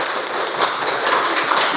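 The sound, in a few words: applause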